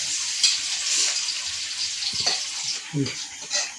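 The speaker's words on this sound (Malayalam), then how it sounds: "വെളിച്ചെണ്ണ ചൂടായി, ഉള്ളി കൊടുക്കാം" Steady sizzle of onions frying in coconut oil, with crackling bursts and a few stirring clinks, close and continuous.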